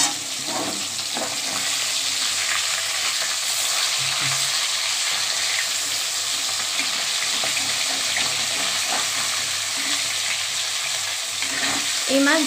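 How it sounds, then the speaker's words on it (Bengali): Bhetki fish frying in oil on a lowered gas flame after being flipped, a steady dense crackling sizzle that holds at an even loudness throughout, close by with no talk. "এবার গ্যাসটা কমিয়ে নিয়ে উল্টে দেবো।"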